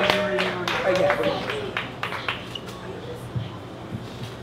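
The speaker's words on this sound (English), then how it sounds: "give a round of applause to yourselves" Poetry slam audience clapping for themselves, bursts of claps mixed with cheering voices and chatter, fading to scattered claps.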